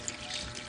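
Water runs steadily for a moment into a pot of native chicken soup, a soft continuous splashing and trickle like liquid poured from a container, fairly quiet and close.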